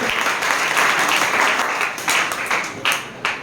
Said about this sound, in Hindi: ये शख्स के लिए भी जोरदार ताली होना चाहिए